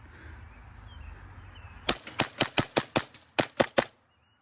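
Novritsch SSP5 Hi-Capa airsoft pistol fires BBs in a quick run of about ten sharp, loud cracks with a brief gap near the end, following a stretch of faint background hiss.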